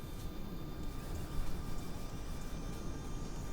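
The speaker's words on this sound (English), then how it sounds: "There's APU starting. It's a tiny little jet engine in the back here." An Airbus A320neo's auxiliary power unit, a small jet engine in the tail, whines steadily as it starts amid a broad, constant roar of machinery, with faint high tones running under the rumble.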